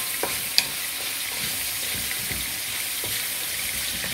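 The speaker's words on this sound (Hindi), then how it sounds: "इसमें थोड़ी देर फ्राई किया और फ्राई करने के बाद इसके अंदर थोड़ा सा पानी डाल दिया" Goat heart and kidney sizzle steadily in oil in a frying pan with a little water added, a continuous close frying hiss with faint stirring clicks.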